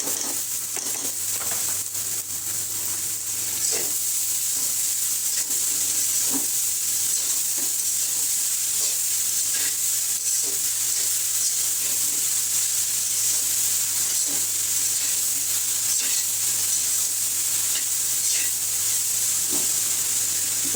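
Leafy greens frying in oil with lightly browned onions, giving a steady close hiss and sizzle with occasional stirring clicks and scrapes throughout.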